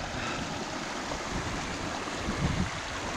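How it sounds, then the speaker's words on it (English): A trickling stream on a walk near Beddgelert, North Wales gives a continuous soft babbling wash of water, fairly close and steady, with no speech over it. "Lovely tinkle of water while I've had my dinner."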